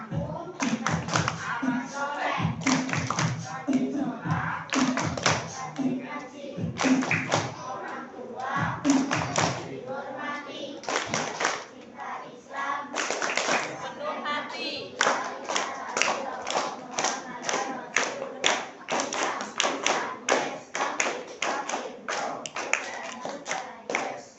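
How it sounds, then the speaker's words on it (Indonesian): Children clap their hands in a steady rhythmic pattern at an Islamic children's motivational storytelling session, the claps close and loud, in bursts that quicken into a fast even run, with voices chanting and talking along throughout. "Ingin dengar tepuk tangannya deh."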